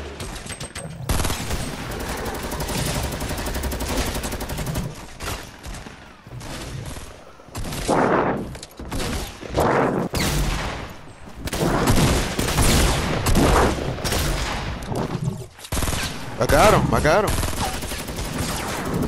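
Rapid video game gunfire and explosions crackle in dense, loud bursts with brief pauses, as bomb blasts and sniper fire mix in while players talk excitedly over the shooting.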